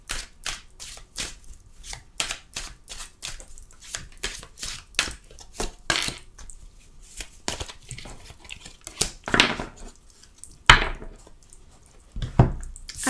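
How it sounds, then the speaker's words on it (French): Oracle cards riffle and shuffle in the hands during a tarot-style reading, a quick series of crisp papery flicks and snaps with brief pauses, close and fairly quiet. "on mélange les cartes"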